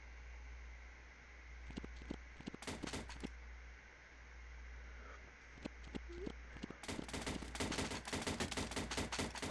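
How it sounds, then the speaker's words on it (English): A Garry's Mod clone gun that fires guns, heard as scattered shots early, then a rapid stream of sharp close-range bursts with a low steady hum underneath. "It's a gun that shoots guns, basically."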